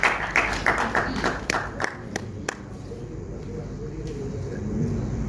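Scattered claps ring out at a Pakistani film launching ceremony, sharp and uneven, and thin out within a few seconds into crowd murmur and background chatter.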